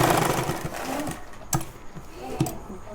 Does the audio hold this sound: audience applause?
no